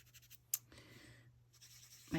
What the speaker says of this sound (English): I am gonna go over some of it with the chalk pastel